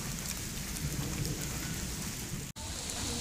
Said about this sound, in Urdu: دیکھو جی بارش ہو گئی